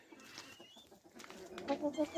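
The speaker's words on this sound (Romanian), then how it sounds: "Găinușa de Brahma" Brahma cross chickens, hens and roosters of mixed colours, clucking in a farmyard with a series of short, rhythmic clucks growing louder toward the end, mixed with faint background noise.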